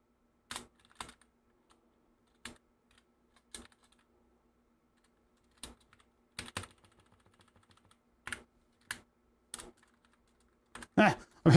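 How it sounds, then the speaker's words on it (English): Keys clack on a computer keyboard in sparse, irregular bursts of single taps and short runs while someone programs a serial connection for a car switch, close and clear in a quiet room. "I'm hitting all the wrong keys."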